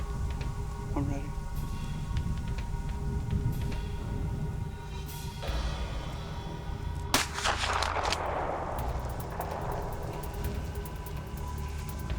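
Rifle shots fired at a whitetail deer during a hunt ring out outdoors, with a sharp report near the middle standing above steady background noise; people talk quietly around the shooting.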